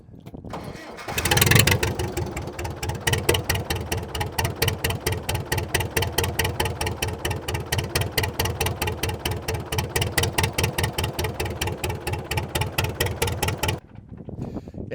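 An International 2500A truck engine cranks, catches and settles into a loud, uneven idle with a lumpy, misfiring rhythm, running close by for several seconds before cutting off.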